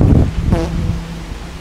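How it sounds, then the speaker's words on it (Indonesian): Strong wind gusting at a seaside spot in Jakarta, roaring and buffeting the microphone with low rumble, with brief voices heard over it. "Angin langsung gede."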